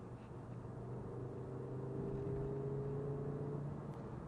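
A Ford Focus ST-3 five-cylinder engine under light throttle, a steady close droning hum with rising whine tones as it gently gains speed, with no talking.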